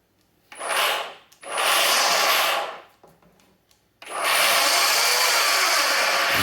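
Echo 58V battery-powered string trimmer with a faulty gearbox, running in short bursts then a longer steady run, giving a rough, grinding, raspy whir close by with no talking.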